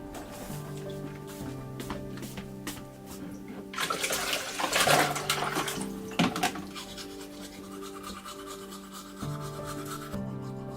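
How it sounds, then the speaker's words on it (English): Ice-cold water splashing and rubbing close up as a face is washed and teeth are brushed, with scrubbing sounds and a louder burst of splashing in the middle, over a faint background hum. "he washed his face and brushed his teeth"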